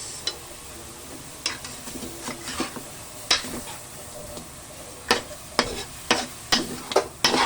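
Nilagang buto-buto (beef bone soup) is stirred in a pot, a run of sharp scraping clinks and knocks of a utensil against the metal, irregular and close, over a low background hiss with no voices over it.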